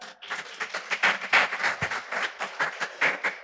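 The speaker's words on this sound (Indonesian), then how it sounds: "Beri tepukan." A church congregation claps during a worship service after a Psalm reading, a short burst of fairly even hand claps, near and moderately loud, with no talking over it.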